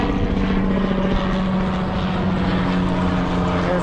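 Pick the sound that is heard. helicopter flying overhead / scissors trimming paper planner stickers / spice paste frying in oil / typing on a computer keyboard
helicopter flying overhead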